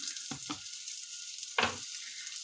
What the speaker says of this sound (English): we need to turn it around a couple of times to make sure that it's fried straight through